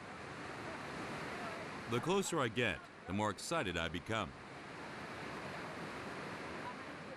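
Waterfall at Bantimurung national park on Sulawesi, a steady broadband rush of falling water running throughout, with someone talking briefly over it in the middle.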